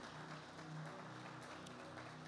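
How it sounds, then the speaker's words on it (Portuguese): A church congregation claps together during a Sunday evening service, a steady, soft wash of applause that stays even and fairly distant throughout. "Pode aplaudir."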